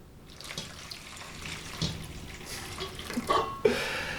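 Boiling water is poured into a bowl of watermelon Jell-O powder in a home kitchen, a soft running splash that builds and ends in a louder slosh, heard alone.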